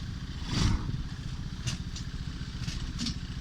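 A 125cc UTV engine runs at a low, steady idle-like rumble while the vehicle reverses, with a few light clatters and ticks over the continuous drone, fairly close and without talk.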